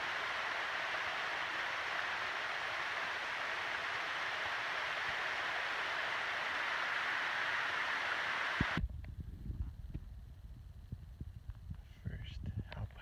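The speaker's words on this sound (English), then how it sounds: "That's a waterfall action." A waterfall beside a trail in the Alpine Lakes Wilderness gives a steady, full rushing roar for about nine seconds, then cuts off abruptly to quieter trail sounds.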